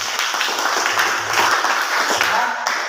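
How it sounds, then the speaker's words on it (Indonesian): An audience applauding in a classroom-style gathering, a dense continuous patter of many hands clapping at close range, steady and fairly loud for about three seconds, with voices faintly mixed underneath. "Berikan tepuk tangan"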